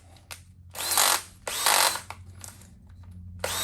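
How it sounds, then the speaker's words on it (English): An old, worn-out electric drill whirs in several short, loud bursts, revving up and cutting off with brief pauses between, against a low background hum, while trying to turn over a 140cc Piranha engine. "This old drill is getting just about wore out."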